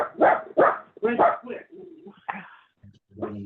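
A dog barks indoors during a community meeting, giving three sharp barks in quick succession. Several people talk nearby, with murmuring voices after the barks.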